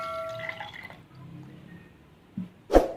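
Water poured into a glass for wheatgrass juice, heard as a faint trickle and then a short, sharp splash near the end. No one speaks.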